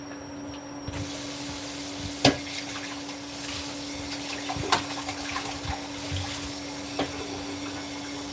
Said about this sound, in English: Mix it all in, add some water.